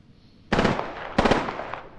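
Video game gunfire during a multiplayer match: two sharp, close bursts of rapid shots, the second starting about half a second after the first ends and then ringing down, no talk.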